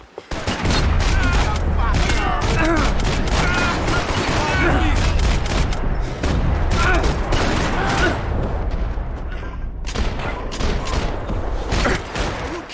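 Dense gunfire in Max Payne 3 rattles almost nonstop, with bursts of automatic fire, single cracks and booms layered loudly over shouted in-game voices, easing briefly before resuming.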